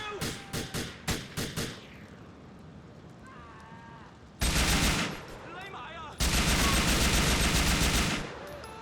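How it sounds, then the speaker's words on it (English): Gunfire in Grand Theft Auto IV: a rapid volley of sharp shots, then a lull with faint tones, then two long, loud sustained bursts of machine-gun fire up close. "I shot this man enough to kill him."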